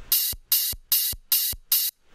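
Open hi-hat sample from a dubstep drop, five crisp, hissing hits in quick, even succession, each cut off abruptly, with a faint low rumble under the noise.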